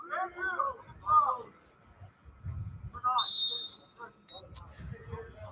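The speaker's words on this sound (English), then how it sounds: "We are live on the whistle." A referee's whistle at a high school junior varsity boys water polo game sounds one sharp, shrill blast, followed by a brief second chirp. People talk before it, and splashing and crowd murmur fill the background.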